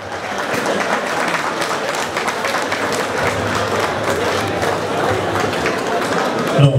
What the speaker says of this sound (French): on applaudit pour le président.